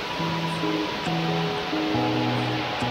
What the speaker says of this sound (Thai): และนี้เราก็อยู่ชั้นบนสุดนะคะของน้ำตกเขาแหลมนะคะ